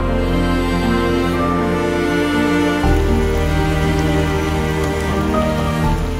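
Steady, dense rain pours during a thunderstorm on a kayak trip along the Rhine, a constant loud hiss with no pauses and no voices.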